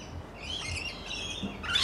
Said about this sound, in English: I'm teaching my parrots to count.